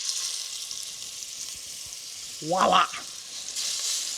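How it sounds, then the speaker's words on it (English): Brisket sears in a hot, oiled Dutch oven, giving a steady, bright sizzle that runs throughout, with one short spoken exclamation partway through. "So all I'm doing is just searing all sides of this brisket"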